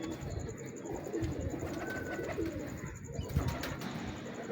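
Pigeons coo softly amid a dense, noisy background, their low throaty calls surfacing a few times and partly buried under steady rustle and clatter.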